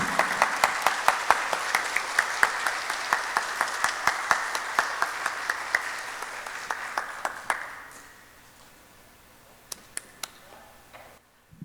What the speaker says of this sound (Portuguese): Vamos dar mais uma salva de palmas para a nossa querida expositora